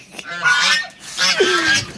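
Loud ducks or similar waterfowl kept at home give two close, harsh honking calls in a row, each lasting under a second, with no one talking.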